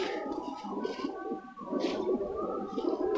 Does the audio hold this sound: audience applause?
no